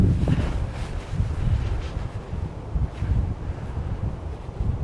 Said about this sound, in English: it's actually a little bit windy outside today